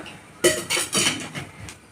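A metal cooking pan clanks down onto a stove, followed by a few quick scraping knocks, close and fairly loud.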